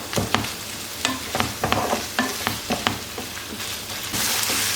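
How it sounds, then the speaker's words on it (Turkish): Börek filling sizzles as it is sautéed over medium heat in a pan, with repeated sharp scraping and stirring clicks, steady hiss throughout, close by. "orta ateşte güzelce kavuruyorum"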